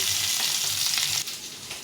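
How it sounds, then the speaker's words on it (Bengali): Potatoes frying in oil for aloo dum, a steady, fairly loud sizzling hiss that drops slightly in level near the end. "আলুগুলো ভালো করে ভেজে নেবো আলুগুলো ভাজা হোক"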